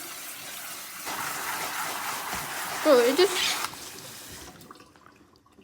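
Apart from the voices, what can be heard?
tap water rinsing with cold water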